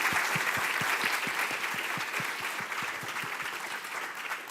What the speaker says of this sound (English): I would ask the audience to give an applause to our lecturer.